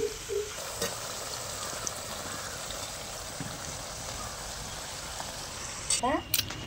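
Carrot and beetroot chekkalu frying in hot oil, a steady soft bubbling sizzle throughout, with a few brief clinks and scrapes near the end.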